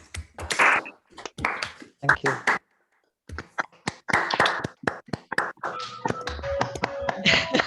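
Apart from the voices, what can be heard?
audience applause through unmuted microphones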